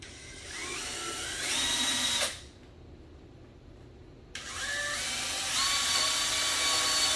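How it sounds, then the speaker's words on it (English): A power drill whines as it bores into cabinet wood to install cabinet pulls, pausing for about two seconds before spinning up and drilling again, close and steady. "You want to try to hold that drill bit as perpendicular to the wood as you can"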